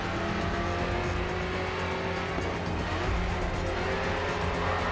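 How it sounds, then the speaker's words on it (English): Race cars in Grid 2 roaring continuously through the first race, a dense, steady engine drone with faint tire noise and no pauses. "this is the first race of Grid 2"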